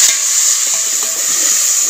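Onions sizzling as they brown in a pot, a dense, loud, steady frying hiss with light scraping from stirring underneath.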